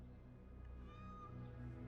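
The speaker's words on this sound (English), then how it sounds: "I hear the kitty" A cat meows a few times in an ASMR gaming stream, faint and steady, over a low background hum with no talk.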